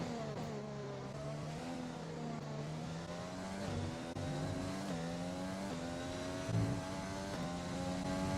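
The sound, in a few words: Formula 1 race cars racing at the British Grand Prix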